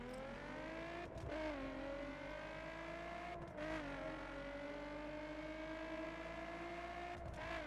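Racing-game car engine in The Crew revving steadily and loudly while stationary, with a sustained rising-and-falling drone and brief dips between revs, alone without talk.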